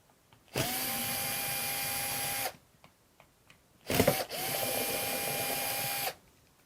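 A cordless power driver backing out the two screws of a Schlage Encode smart deadbolt, two separate whirring bursts of about two seconds each, close and clear, with a short quiet gap between them.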